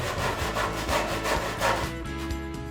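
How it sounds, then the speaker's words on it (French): A hand saw cuts a wooden batten held in a miter box while building a birdhouse, giving steady, close back-and-forth rasping strokes in a quick rhythm that slow and thin out near the end. "le découper à l'aide de la scie à main"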